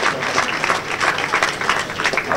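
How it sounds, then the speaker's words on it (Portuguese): An audience applauds the youth coaches at the União de Tomar youth section presentation, a steady, moderately loud patter of clapping from many hands with no voices over it. "Uma salva de palmas para o Mr."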